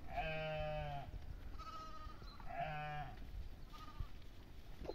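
Goats on a steep slope bleat in two pairs of wavering calls, a longer cry followed by a shorter one each time, moderately near over outdoor background noise with no talking.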